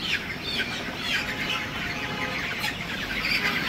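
A chicken clucks and squawks as it is caught and held, its calls blended into a dense, steady wash of background noise at an even level throughout.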